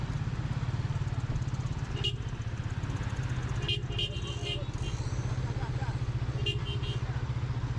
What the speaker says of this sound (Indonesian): Ini orang ngegas teman-teman, padahal nggak dikasih jalan ya.